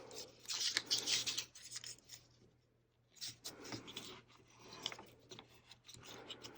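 Sheets of paper being folded into a letter and creased by hand, heard as quiet papery rustles and rubbing strokes in short bursts separated by brief pauses.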